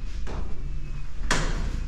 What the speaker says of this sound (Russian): Дверь открывается, дверь закрывается